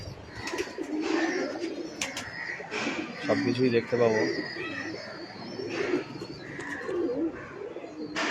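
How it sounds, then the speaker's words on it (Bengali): A flock of white Jhoton pigeons in a pigeon garden at Ramharipur, Bankura, gives low repeated cooing with a few brief chirps, while a person talks over it nearby. "পায়রার বাগান, সাদা পায়রা, প্রচুর ঝোটন পায়রা"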